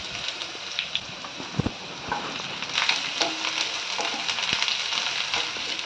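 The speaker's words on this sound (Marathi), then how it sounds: "तेल तापल्यावर आपल्याला जो बारीक चिरलेला कांदा ठेवलेला बाजूला तो घालून घ्यायचा आहे आणि चांगलं परतून घ्यायचं आहे" Finely chopped onion fries in hot oil while being stirred, giving a close, continuous sizzling hiss punctuated by occasional sharp clicks and knocks of the spoon, with no talking.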